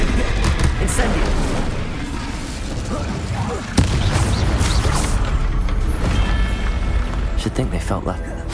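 An Incendio fire spell is cast during Hogwarts Legacy combat, and a dense, roaring whoosh of flame fills the scene. One sharp crack rings out midway amid constant rumbling effects and a voice.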